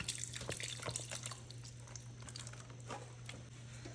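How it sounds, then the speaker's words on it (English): Chicken broth splashes and trickles into a pot, a soft, faint pouring with small drips and bubbling that carries on steadily. "Now I'm adding in 4 cups of chicken broth."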